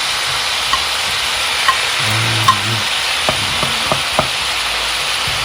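Garlic sizzles in a hot pan for adobo, a steady close hiss of frying broken by a few soft clicks and scrapes from stirring.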